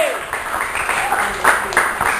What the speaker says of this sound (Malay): Okey, beri tepukan sekali.